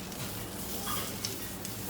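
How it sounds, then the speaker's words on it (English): Tomato paste roasting in a pot for lamb casserole, stirred through a low, even sizzle with a couple of faint scrapes, close but quiet, no voices. "And stir."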